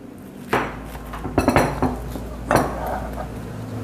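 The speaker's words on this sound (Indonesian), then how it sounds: "Kita aduk." Mashed potatoes are stirred and pressed in a large bowl, with a utensil scraping and clinking against its sides in a few loud bursts over a steady low hum.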